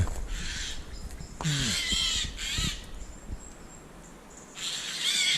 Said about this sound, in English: I believe what's squawking up there is possibly a woodpecker.